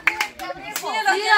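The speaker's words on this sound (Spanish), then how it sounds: "Se merece un aplauso" A few scattered hand claps greet a contest winner, sparse and close, mingled with children's voices and chatter.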